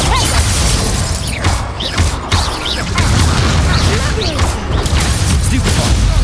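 Fire spell cast during combat in the Hogwarts Legacy video game, dense crackling bursts and whooshing impacts over a constant low rumble, loud and busy throughout with overlapping clashes.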